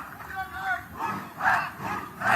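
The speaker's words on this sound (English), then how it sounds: "There you can see the sound of the cheering" Spectators at a tennis match at the 38th National Games cheer in swelling bursts of crowd noise, loud and sustained, rising and falling over a couple of seconds with no clear speech.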